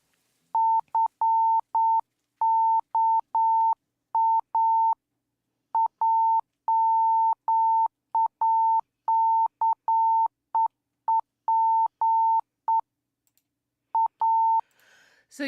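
Morse code beeps added to a flashing light: a single steady electronic tone keyed on and off in short and long bursts with uneven gaps, clear and alone, then a brief pause and a few final beeps.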